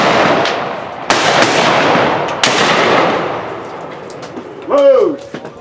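Reenactors fire muzzle-loading rifles in a volley at a Victorian-era rifleman shoot in Bowling Green, Kentucky: several sharp, loud cracks with long rumbling echoes, followed by a short shouted command.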